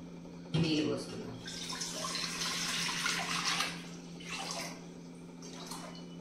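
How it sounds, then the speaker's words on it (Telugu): Water poured from a vessel into a pot on a lit stove, a sudden gush that streams steadily for a few seconds before tapering into smaller splashes and trickles, quiet and close. "దీంట్లో ఫస్ట్ పొయ్యి వెలిగించి గిన్నె పెట్టుకొని నీళ్ళు పోసుకుందాం."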